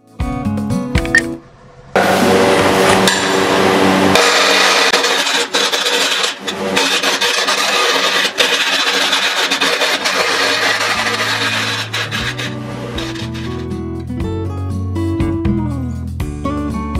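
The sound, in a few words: lathe turning wooden block into cylinder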